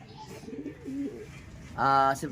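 Soft pigeon coos sound nearby, ending in a louder, throaty burst; faint background noise throughout and no clear talk.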